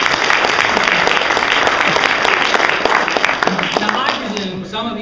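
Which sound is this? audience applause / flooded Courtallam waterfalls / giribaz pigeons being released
audience applause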